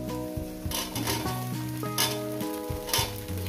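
Onions and green chillies frying in a pan, a steady close sizzle with intermittent bursts of stirring and clinks of a spatula against the metal pan, and a faint tonal hum underneath.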